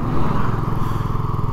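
The engine of a 2023 BSA Gold Star motorcycle revs high just after a button start in cold weather, a loud, close, steady throbbing drone with no speech.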